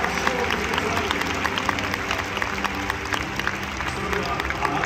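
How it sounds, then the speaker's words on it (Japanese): Football stadium crowd at a Consadole Sapporo home match against Urawa Reds applauding a player's 600th J-League appearance, loud dense clapping mixed with crowd noise and a few cheers, sustained across the whole stretch. "どうぞ拍手をお送りください。"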